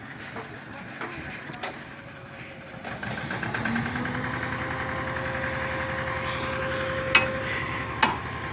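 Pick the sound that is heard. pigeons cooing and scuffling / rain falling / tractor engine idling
tractor engine idling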